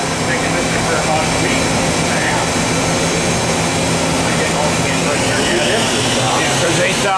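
A 2001 Kuraki KHM-125 CNC horizontal machining center with its spindle running at 8,000 RPM, a steady loud whirring hum with a faint high whine, constant throughout with no pauses.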